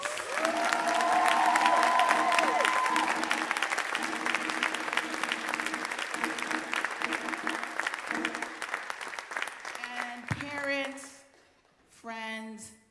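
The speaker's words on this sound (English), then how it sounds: "Please give yourselves and them another round of applause." Graduation ceremony audience at Temple University applauding, dense sustained clapping from a large crowd with some cheering, fading out before a voice speaks over a public address.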